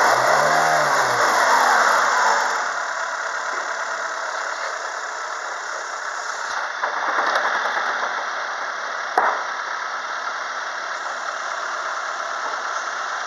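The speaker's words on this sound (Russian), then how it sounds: "Работа на повышенных оборотах." Close up, a Renault Logan 1.6 engine with 124 thousand on the clock runs at raised revs. A short rev sweep at the start settles into a steady higher hum, with a brief click near the end and no voices.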